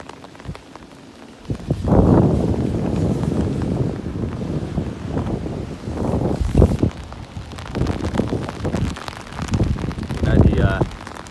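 Heavy rain pours steadily during central Vietnam floods in Quảng Ngãi province, a constant hiss with wind buffeting the microphone, while a person talks over it for most of the stretch.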